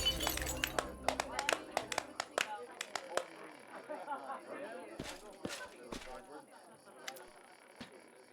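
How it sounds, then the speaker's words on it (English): A wine glass thrown to the ground shatters in a video game, a bright crash followed by scattered tinkling shards and clinks that thin out over several seconds. "Darren smirks, finishes his wine, and tosses the glass to the ground."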